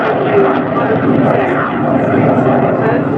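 A jet aircraft engine roars steadily and loudly at an air show in England, a dense, continuous broadband rumble with a smooth sustained thrust tone.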